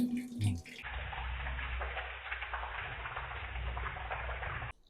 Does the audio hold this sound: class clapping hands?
no